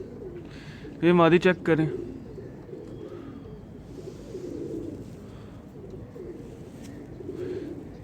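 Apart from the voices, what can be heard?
pigeons cooing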